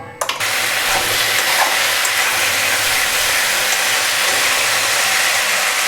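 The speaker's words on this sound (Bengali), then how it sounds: "এখানে আমি তেলটা গরম হয়েছে পরে একটু তেজপাতা দুইটা তেজপাতা পাঁচফোড়ন দিছি" Two bay leaves and panch phoron hit hot oil for a rohu fish curry, setting off a loud, dense sizzling hiss that starts suddenly and holds steady, close and unbroken.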